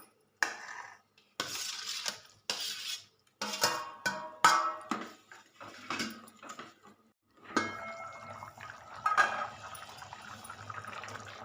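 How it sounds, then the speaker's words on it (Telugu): Okra pieces drop into a pan of simmering tamarind broth in bursts of close, wet splashes and soft clinks, followed by a steadier low bubbling and stirring, with no talking. "ఇప్పుడు బెండకాయ ముక్కలు వేసేసుకుందాం."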